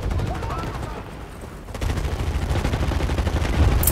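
Rapid bursts of Kalashnikov assault rifle fire in Medal of Honor (2010) multiplayer rattle close and loud, pausing briefly before resuming in sustained volleys, with a voice speaking underneath.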